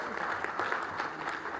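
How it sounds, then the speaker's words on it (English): Applause at a ministerial meeting of landlocked developing countries: a fairly faint, dense patter of many hands clapping together in a hall, steady for the whole stretch. "Another round of applause for Mr. Jandasak."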